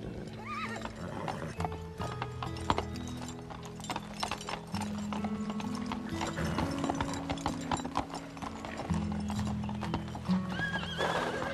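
Horses walk with steady clip-clopping hooves and whinny several times, the sounds loud and close and layered over continuous background music, with no talk.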